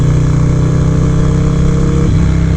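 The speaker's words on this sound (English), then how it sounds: "116 cubic inch S&S rebuild engine." Harley-Davidson Dyna Low Rider S with a rebuilt 116 cubic inch S&S engine and S&S cams, loud and close, a deep throbbing idle that lifts briefly into a rev near the end.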